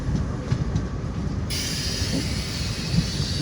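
A passing local train on a railway journey between Danapur and Secunderabad, heard from aboard, with loud steady rumble and rhythmic wheel clatter, rising in brightness partway through as the train draws alongside.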